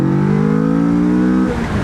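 2023 Kawasaki Vulcan S motorcycle accelerating hard in second gear, a loud, close engine roar with rising harmonics that cuts off into a shift near the end.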